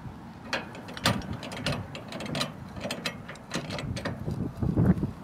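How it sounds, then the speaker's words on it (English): Trailer tongue jack on a SoDAR unit being cranked down, close rapid ratcheting clicks and gear grinding in an uneven rhythm, with wind noise outdoors and no talking. "put the pin back in, and start cranking"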